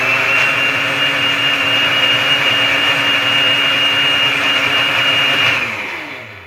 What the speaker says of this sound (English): Get yourself a bullet blender.